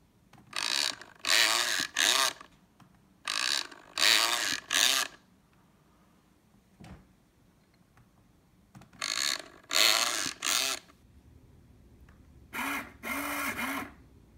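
A quarter-scale servo drives the neck motor of an EZ-Robot-powered Elvis android, whirring in short bursts of one to three pulses separated by pauses, close and clear with no speech.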